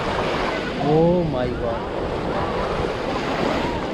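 High surf breaks along the rocky Galle coast in Sri Lanka, a steady wash of crashing waves with wind buffeting the mic, while a voice exclaims briefly near the start.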